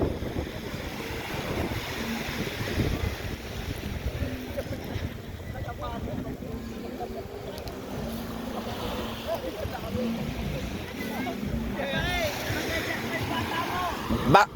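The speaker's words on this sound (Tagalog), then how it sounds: "may bagyo pero ganyan lang yung alon" Ocean waves during a storm at a beach in Infanta, a faint, continuous wash of surf mixed with wind buffeting, with voices talking over it throughout.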